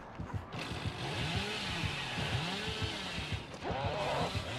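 Chainsaw revving in the Dead by Daylight horror game, a buzzing motor that rises and falls in repeated pulses, fairly quiet, with a brief break partway through.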